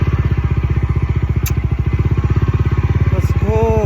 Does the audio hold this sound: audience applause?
no